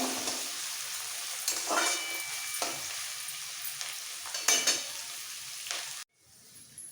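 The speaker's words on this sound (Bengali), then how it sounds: "একটা বড় সাইজের পেঁয়াজ সবটাই দিয়ে দিচ্ছি এবার পেঁয়াজটা একদম বেরোচ্ছে এটা ভেজে নেব" Sliced onion for vegetable biryani fries in oil, a steady close sizzle punctuated by several spatula scrapes and stirs. The sound cuts off abruptly near the end, and there is no speech.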